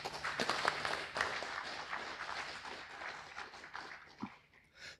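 A conference audience claps for a speaker about to give a talk on making music in the free and open-source world, a quiet patter of scattered hands that thins out toward the end.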